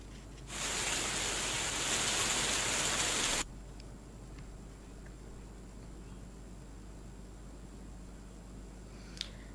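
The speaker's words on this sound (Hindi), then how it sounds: "पटना के कई हिस्सों में बारिश हुई है।" Rain falls in Patna, India, as a dense hiss that starts abruptly, holds steady for about three seconds, then cuts off, leaving a faint background hum with a few small ticks.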